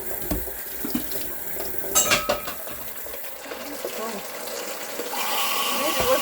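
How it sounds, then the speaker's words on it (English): Running water from a tap rinses a kitchen sink, a steady hiss and splash with a few clinks and knocks, growing louder near the end; fairly quiet and close. "Give it a little bit of a rinse."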